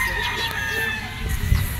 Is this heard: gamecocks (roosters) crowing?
yes